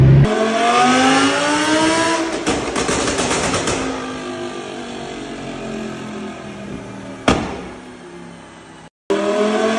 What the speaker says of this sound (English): It was shooting ridiculous flames at one point.